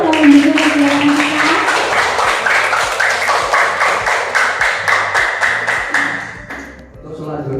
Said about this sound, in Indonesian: Tepuk tangan buat Mbak Yono yang mendukung kegiatan kita.